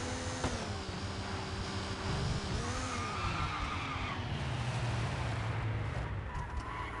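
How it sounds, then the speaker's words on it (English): Race car engines roar continuously in a GT1-class sports car racing video game at Hockenheimring, with tyre skidding and squealing as a car spins into turn one; loud, dense and steady throughout. "Another car is spun going into turn one."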